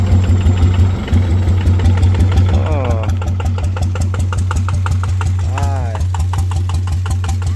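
A turbocharged engine, an L4018 unit fitted at a turbo workshop, runs steadily close by with a deep, even idle drone and rapid repeating pulses, joined by a couple of brief rising whines.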